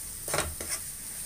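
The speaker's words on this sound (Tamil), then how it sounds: "வதக்கிட்டு நல்லா வதங்கிடுச்சு" Onions and herbs sautéing in a pan for macaroni pasta, a soft sizzle with a couple of brief stirring scrapes near the start, close and fairly quiet, with no voices.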